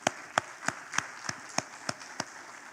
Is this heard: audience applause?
yes